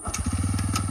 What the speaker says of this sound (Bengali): এবার আমি একটা কিকে বাইকটাকে স্টার্ট করতে চাই